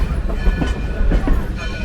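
Excursion train behind steam locomotive BR&W No. 60 rolling on rails, a steady low rumble with faint rhythmic clatter from the cars, fairly close and continuous, with no talk.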